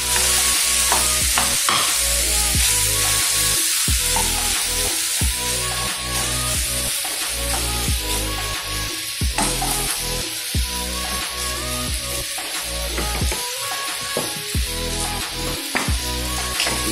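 Chicken feet fry in a pan, hissing and sizzling steadily and loudly while they are stirred and scraped at irregular intervals.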